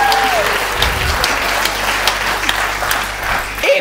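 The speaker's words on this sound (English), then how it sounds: "Big round of applause over there." Applause from an audience at a talk about the NHS, a steady dense wash of clapping filling the whole stretch at close range, with a brief voice and a whoop near the end.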